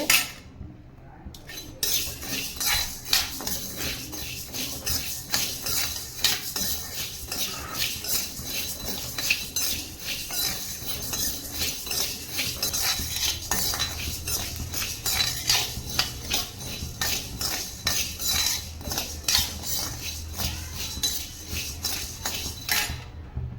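Urad dal roasting in a pan for murukku, with a metal spoon scraping and clinking steadily against the pan as it is stirred, a busy, continuous rattle of grains and utensil.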